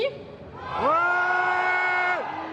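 An audience at a group cosplay contest shouts and whoops together for DC, a sustained rising crowd yell that swells and holds for over a second before fading.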